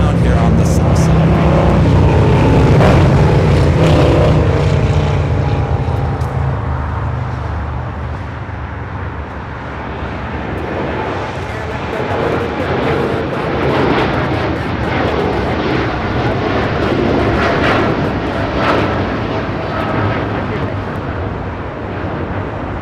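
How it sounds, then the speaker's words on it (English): A United Boeing 787 Dreamliner rolls down the south-side runway at Los Angeles International Airport, a loud broad engine roar that eases after the first seconds and then holds steady, with a voice speaking over it. "Next arrival on the north side is that Dreamliner for United is now rolling down here on the south side"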